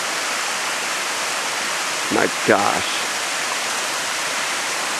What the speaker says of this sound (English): the most beautiful waterfall I've seen on Kumano Kodo